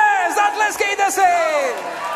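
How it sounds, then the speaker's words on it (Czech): A concert crowd at an unplugged show in Jablonec lets out loud, sustained cheering and whooping, with overlapping voices rising and falling for about two seconds; distinct clapping does not stand out. "Výborně, zatleskejte si!"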